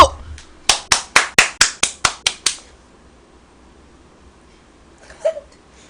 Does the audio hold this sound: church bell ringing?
no